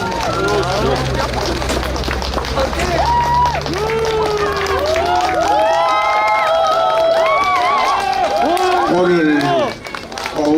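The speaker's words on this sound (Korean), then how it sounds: "박수 주세요." A crowd at an outdoor political street-speech event cheers and claps, with shouting voices and lively hubbub over scattered applause, loud and close throughout, briefly dropping near the end.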